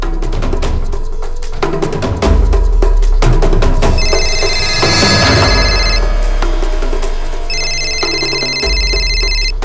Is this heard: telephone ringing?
yes